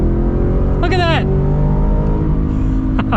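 A 2024 Ford Raptor R's supercharged V8 roars steadily close by, with a rising whine sweeping upward as it accelerates, and a voice briefly heard over it.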